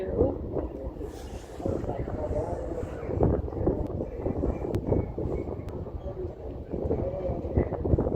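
Wind at Pier 39 in San Francisco buffets the microphone in uneven gusts, a loud rough rumble that rises and falls, mixed with faint waterfront background noise.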